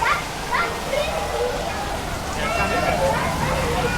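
Red waterfall in the Wild Woods area of Chessington theme park, a steady rushing splash of falling water heard at moderate distance, with faint tonal chirps and park ambience layered over it.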